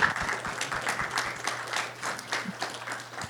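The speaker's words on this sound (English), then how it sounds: "Let's give our panelists a final round of applause" Audience applause for panelists at a public conversation at a university, a moderately distant, steady patter of many hands clapping with faint crowd murmur underneath.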